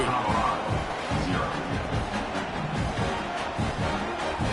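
Stadium crowd noise from a college football video game, a steady, broad roar of fans murmuring and cheering throughout without a break, loud and continuous with no distinct individual voices standing out.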